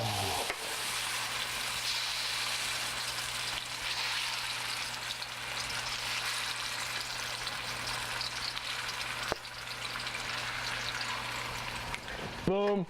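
Fish sizzling in olive oil in a pan, a steady soft crackle and hiss with a low hum beneath, ending in a brief clatter.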